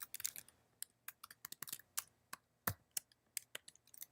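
Crisp, irregular keystrokes on a computer keyboard as an address is typed, close and clear with short pauses between bursts of clicks.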